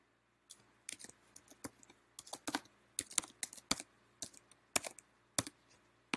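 Keys clicking on a computer keyboard as an email address is entered, in irregular close bursts of separate sharp taps with short pauses, alone and without talk.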